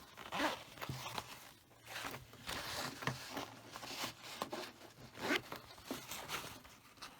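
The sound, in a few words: unzipping a zipper on a handmade coin purse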